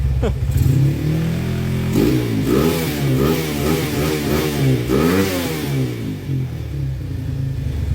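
A Honda Tiger motorcycle engine revs up repeatedly, close and loud. Its pitch rises and falls in a rapid series of throttle blips over a steady idle rumble.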